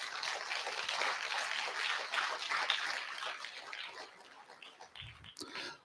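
Applause from an audience at a school gathering honoring the staff, a dense steady clatter of clapping that fills the room and tapers off near the end.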